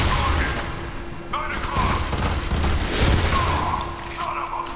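Gunfire in the first-person shooter F.E.A.R. 3, a steady fusillade of shots and thuds over a continuous game soundscape, with a voice talking intermittently over it.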